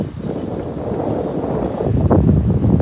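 Strong, cold wind blowing outdoors at a pet-friendly park with dog playgrounds, a steady broadband rush buffeting the microphone and swelling louder toward the end, with no voices.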